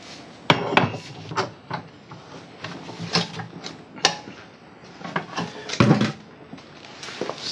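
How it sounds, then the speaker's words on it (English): Sharp metallic clanks and bangs strike irregularly, some loud and close, with quieter scraping and knocking between hits, as damaged steel tube crash bars on a Honda Transalp motorcycle are hammered straight. "See how a bit of hammering goes."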